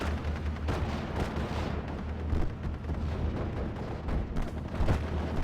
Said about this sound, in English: his artillery pieces are shooting way low